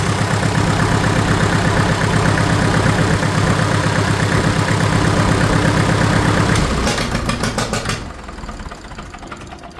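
Farmall 650 tractor engine running loud and steady at a close idle with a rhythmic mechanical knock, then cutting off near the end as the sound drops away to a quieter rumble.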